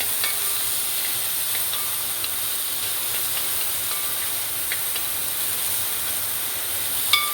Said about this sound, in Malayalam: ചതച്ച് വെച്ചേക്കുന്ന ഉള്ളി, വെളുത്തുള്ളി, വേപ്പില ഇത്ര ഇട്ടിട്ട് നമ്മൾ നല്ലോണം ഒന്ന് വഴക്കണം.